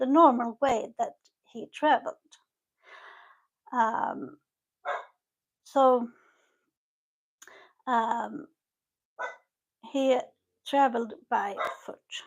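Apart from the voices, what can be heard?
dog barking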